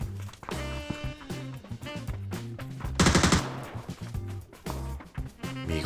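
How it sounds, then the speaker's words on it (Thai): Rapid bursts of automatic gunfire in PUBG crackle over busy background music and game effects, loudest in the middle, with scattered shots throughout. "คนแน่ๆ เสียงยิงอย่างนี้"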